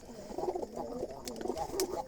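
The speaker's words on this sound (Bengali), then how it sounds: "একেবারে ঘুঘু কোয়ালিটির কবুতর" Jalali pigeons kept in baskets coo in soft, repeated low murmurs, close by and steady across the moment, with no talking.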